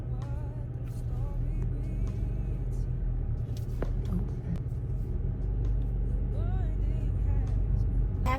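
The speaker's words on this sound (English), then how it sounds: "I actually want to take a clip of the traffic." Road traffic rumbles along in a steady low drone, with cars passing and engines swelling nearby and occasional higher whines over the constant hum.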